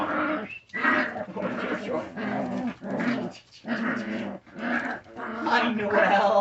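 Puppies whimper and growl in a run of short, close bursts with brief pauses between them. The calls rise and fall in pitch and carry a strained, whiny edge.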